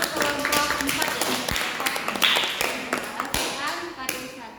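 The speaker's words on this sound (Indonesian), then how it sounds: "Oke, tepuk tangan dulu untuk kelompok 4 ya" Students at a high school in Malang clap for a student group, a loose, uneven spatter of hand claps in a room, fairly close, with some voices mixed in.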